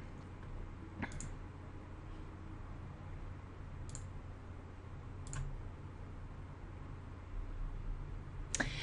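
Several sharp, quiet mouse clicks spaced a few seconds apart over a steady low hum, the last a quick double click near the end.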